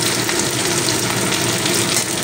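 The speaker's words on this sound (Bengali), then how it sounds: "এইবারে তেলটা খুব ভালো করে গরম হয়ে গেছে, দিয়ে দিলাম আমি একটা মাঝারি সাইজের পেঁয়াজ কুচানো।" Chopped onion frying in very hot oil in a pan, a loud, dense, continuous sizzle held close and steady for the whole stretch.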